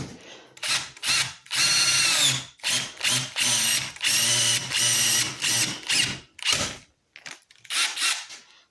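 A DeWalt drill fitted with a flex shaft right-angle attachment drives a long screw in repeated loud whirring bursts, starting and stopping several times with short pauses between.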